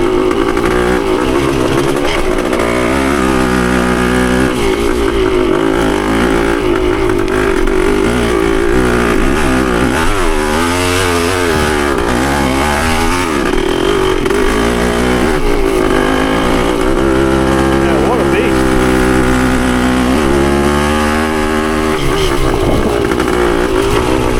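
Yamaha CT3 175 motorcycle engine running steadily while riding, a loud continuous two-stroke drone with shifting pitch as the throttle rises and falls, close and constant throughout with only a faint hint of voice.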